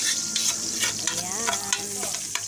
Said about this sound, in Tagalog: gisa natin yung lagyan ng bawang at sibuyas.